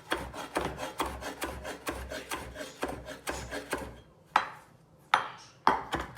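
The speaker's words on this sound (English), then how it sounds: "So it's time to cut the parsley." A knife chopping fresh parsley on a wooden board for a spicy red curry, with a steady run of close, crisp cuts and a few sharper, spaced knocks at the end.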